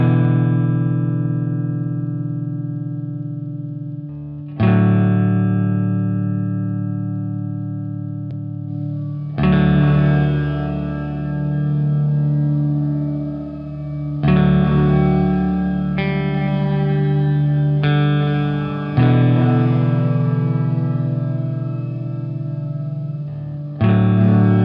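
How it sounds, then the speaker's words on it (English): Guitar run through a reverb pedal cycling standard, modulated, reverse and pitch-shifted reverb, with sustained washed chords that swell and ring out, then new strums repeating over roughly twenty-five seconds, no voices. "So standard verb, modulated, reverse, pitch shifted verb, this thing does it all."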